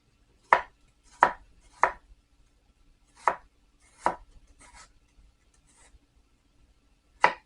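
A knife mincing leftover onion into small pieces on a cutting board, giving a handful of crisp, separate chops with uneven pauses between them, close and alone.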